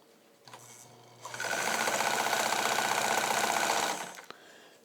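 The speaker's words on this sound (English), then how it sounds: "Always a good test of a sewing machine to see what it will tackle" A restored Necchi Supernova BF sewing machine stitches through thick Levi's denim, starting with a slow whir, then running fast in a loud steady rattling hum before stopping with a click.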